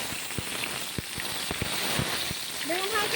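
Steady rain hisses down around an outdoor clay stove where eggplant fries in oil, with scattered sharp drop ticks and a brief voice near the end.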